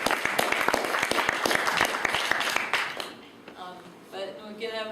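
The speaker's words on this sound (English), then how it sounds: "I can take more questions now, and we can, or I'll take applause" Audience applause after a lecture, a burst of crisp, fairly close clapping lasting about three seconds before tapering off, then the lecturer's voice resumes.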